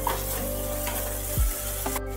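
Curry leaves, tomato and black cumin fry in hot oil, giving a steady close sizzle with a brief stir of the pan partway through.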